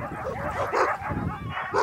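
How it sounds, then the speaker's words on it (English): Sled dogs kept outdoors in Sisimiut, Greenland, bark and yip in a continuous, fairly close chorus of overlapping voices with a few whimpers mixed in. "the area where we have most of the sled dogs in our area"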